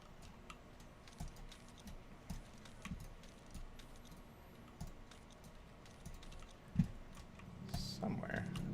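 Keyboard keys pressed for WASD game movement in Grow Home, steady soft clicking and tapping at close range, with a louder burst of activity near the end.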